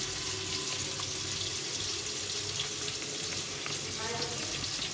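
Tomato sizzling and frying in a pan, a steady close crackle with light stirring and no voices over it.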